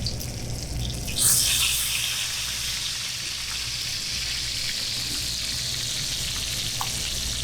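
Wholey's fresh gourmet salmon pan-searing in a hot frying pan, giving a steady, close sizzle and hiss throughout with a brief louder spit of spattering oil near the start; no voices.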